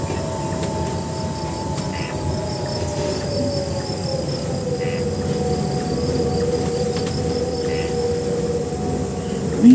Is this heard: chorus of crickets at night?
yes